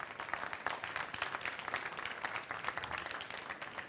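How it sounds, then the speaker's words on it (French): Applause from an audience at a talk on blockchain for construction, a fairly faint but steady patter of many hands clapping throughout, with no voices over it. "Si vous voulez bien applaudir Karim Bedia."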